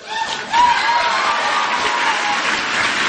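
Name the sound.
audience applause at a speech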